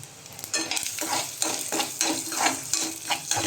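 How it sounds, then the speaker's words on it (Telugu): Vegetables, drumstick leaves among them, fry and get stirred in hot oil in a pan, a steady sizzle broken by repeated scraping stirs at a close, moderate level, with no talking. "ఆయిల్ వేడిగా ఉంది కదా, ఒకటేసారి పెట్టేద్దాం, వేయించేసుకుందాం."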